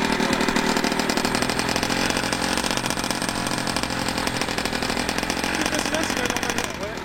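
A Yamaha DT two-stroke motorcycle engine runs roughly at idle on ethanol, a steady loud mechanical drone that goes on throughout, with no clear revving.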